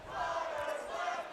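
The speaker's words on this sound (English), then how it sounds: "Another Conor Classy chant from the entire crowd" A large crowd at a ninja obstacle competition chants a competitor's name in unison, a sustained roar of many voices heard from within the arena.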